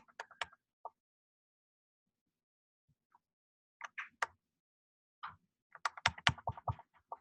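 Clicky keystrokes on an Apple butterfly laptop keyboard come in short scattered bursts separated by silence, faint and close, with a quicker flurry of taps at the end.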